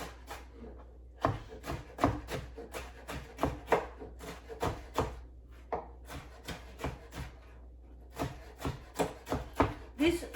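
Knife chopping vegetables for a beef stew on a wooden board, a steady series of close, crisp taps in uneven bursts, no talking.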